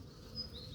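Bees buzzing in flight around a beehive while a swarm is being hived, a short soft drone at moderate distance.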